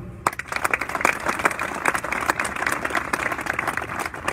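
A crowd outdoors in front of the France 24 building claps for Bachir de Raïs during a political rally speech, sharp, irregular hand claps close by and loud, continuing steadily for several seconds without talk.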